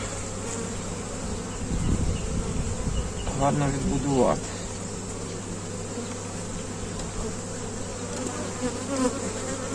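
A dense, steady buzz of many honeybees fills the air throughout during a hive inspection, with someone speaking briefly over the swarm.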